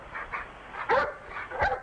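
A dog barks in a few short, band-limited yips and woofs heard as if over a phone line during a comedy radio sketch set at a police sniffer dog headquarters in Dublin, with small gaps between the sounds.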